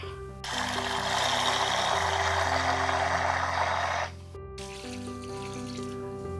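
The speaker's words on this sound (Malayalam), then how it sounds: "ഇതിലേക്ക് കുറച്ച് വെള്ളം ചേർക്കാം" Water pours steadily into a powdered peel fertilizer mix for coriander plants, a dense continuous splashing that runs for about four seconds and then stops, with soft background music throughout.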